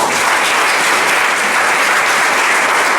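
A congregation at a Catholic Marian sermon applauds for the Virgin Mary, a dense, steady wall of clapping from many hands, loud and continuous throughout.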